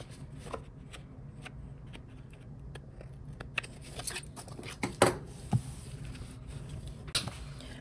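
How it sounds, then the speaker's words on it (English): Scissors trim a tiny overhanging strip of paper in a reading journal, giving a few close, crisp snips and light papery rustles in an otherwise quiet room. "I'll cut this little tiny piece of overhang"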